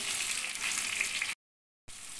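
Pieces of raw mango frying in hot oil in a pan: a soft, steady hiss and crackle, moderately quiet, broken by a brief gap of silence before the sizzle resumes.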